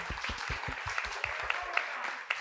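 A crowd claps and applauds steadily, rhythmic hand claps blending into a moderate, sustained round of applause.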